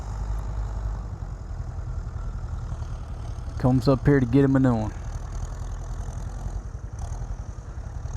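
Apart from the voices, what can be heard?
tractor engine running on the beach sand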